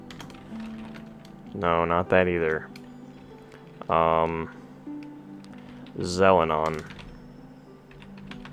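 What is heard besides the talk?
mashing a computer keyboard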